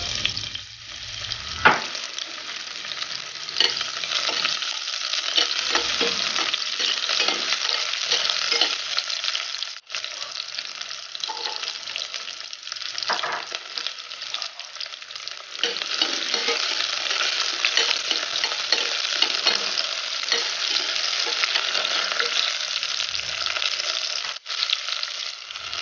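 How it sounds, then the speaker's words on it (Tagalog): Garlic, onion and tomato sautéing in hot oil in a pot, a continuous loud sizzle with occasional stirring scrapes and clinks, steady throughout with no voices. "Unang gagawin ay magpainit ng mantika sa kaldero at igisa ang bawang,"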